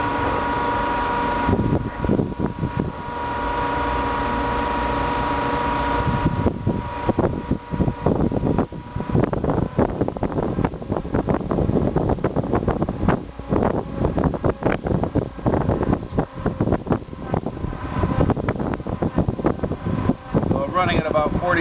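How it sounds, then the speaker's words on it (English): A BestCode ink printer's pump motor runs steadily while flushing ink at about 40 psi, a continuous mechanical hum with fluid movement in the ink tank, close and loud, with someone talking over much of it. "So now you can hear the motor kind of moving along there."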